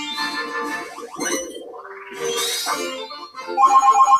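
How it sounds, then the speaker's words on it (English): Ringing phone in the video game Fortune Street, a bright synthetic ringtone that repeats in quick pulses near the end, following busy game music and jingles. "And there's the phone"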